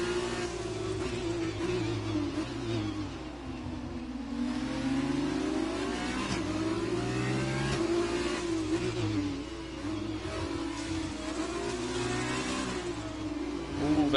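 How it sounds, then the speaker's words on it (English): F2 race cars at Baku in the F1 video game: a high, continuous engine whine rising and falling as the cars accelerate through gears, steady and prominent with no pauses. "et's see if Valentine can defend, as well as try and decrease that gap to the car ahead of Impossible Bacon."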